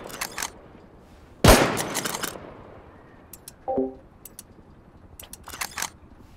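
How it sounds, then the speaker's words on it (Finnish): In the survival game Rust, one sharp, loud gunshot cracks out and rings down, followed by a brief metallic clank and scattered lighter clicks and taps in a quiet scene. "Mä ammun ton auki, sä meet ja ammut."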